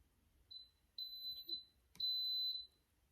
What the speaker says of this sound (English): When it beeps like that, it tells me that it's set and ready to go